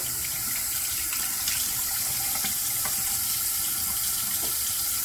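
Cold water runs steadily from a tap into a sink while an alum block is rinsed, a continuous close splashing hiss with a few small drips and clinks on top.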